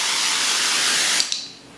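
A hair shine spray bottle releases a steady hissing mist, close and fairly loud, that cuts off after about a second and a half, leaving a few faint clicks.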